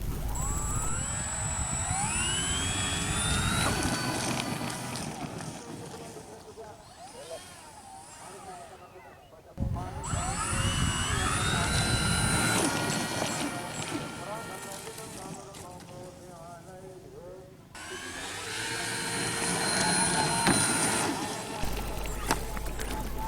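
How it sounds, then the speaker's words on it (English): A radio-controlled Boeing 737 model airliner flying on a 9-inch three-blade propeller, its motor whine rising and falling over three loud passes with steady wind-like rushing between them. "After switching the prop from 8-inch 4 blades to 9-inch 3 blades, the plane finally airborne."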